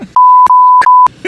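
Loud electronic censor beeps, a steady high tone cutting in three times in quick succession with brief gaps of speech between.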